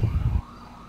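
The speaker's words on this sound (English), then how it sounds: "Freaking sirens." A low rumble cuts off abruptly, leaving a faint distant siren wailing thinly in the background.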